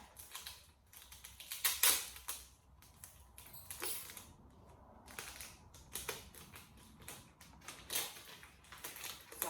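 Tape is pulled from the roll and pressed onto dollar store baskets being readied as a mold for a cement plant pot, giving repeated crackly ripping and sticking bursts that come close and fairly loud with short pauses between, and no talking.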